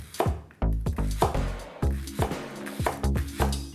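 Knife slicing through leeks on a cutting board, crisp repeated chops landing in an uneven rhythm, close and clear with no talking.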